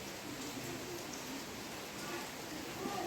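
Rain falls steadily on a morning, a dense even hiss of drops on surfaces close by, with faint birdsong mixed in and no clear talk.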